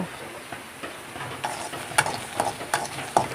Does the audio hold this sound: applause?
no